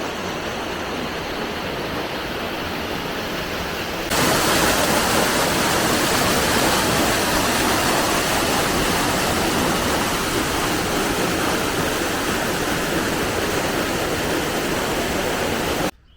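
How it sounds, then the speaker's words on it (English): Canal overflow water pouring down a spillway section on the Birmingham Canal Navigations new line at Smethwick, a steady broadband rush that jumps louder after about four seconds and holds constant to the end, with no voices. "seeing that water flowing all the way down"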